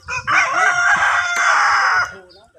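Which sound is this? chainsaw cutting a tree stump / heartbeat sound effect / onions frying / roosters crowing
roosters crowing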